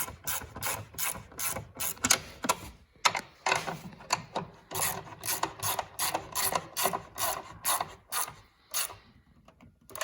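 Rapid ratchet clicks as hold-down bolts are snugged on a car battery in an Infiniti, coming in quick repeated bursts with brief pauses, close and fairly loud with no talking.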